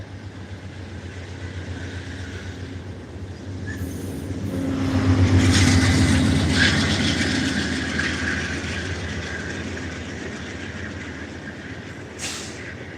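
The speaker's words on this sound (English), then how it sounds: "So this is a VIA train." A VIA Rail passenger train passes by a roadside spot in Toronto, a broad rumbling wash that builds to a peak midway and fades, with a brief high hiss near the end.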